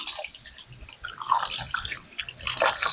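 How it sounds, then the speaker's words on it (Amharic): Tap water running and splashing while raw chicken is washed in a kitchen sink, a close, steady trickle with dripping and splashes, no voices. "ውሃው ከላይ ሰፈፍ እስኪል ድረስ በደንብ አድርጋችሁ ዶሮን በደንብ ማጠብ በጣም ወሳኝ ነው"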